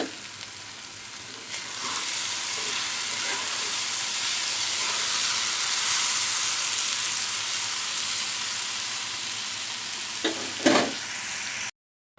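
Potatoes frying for aloo bhaji in a home kitchen, a steady loud sizzle and hiss running throughout, with a few brief clinks of stirring near the end before it cuts off.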